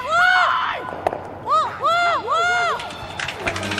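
Scottish fans in a curling arena send up loud, rising and falling whistles and shouts in several bursts, backing their rink over a low crowd murmur.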